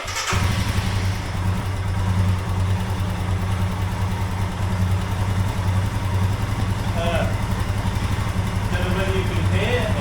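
A Royal Enfield Himalayan motorcycle engine fires up and settles into a steady, loud idle with an even low thump throughout, while someone speaks briefly near the start.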